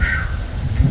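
Birds calling outdoors in fresh countryside air, a short harsh crow-like call followed by a lower squawk, fairly loud and close, with no talking.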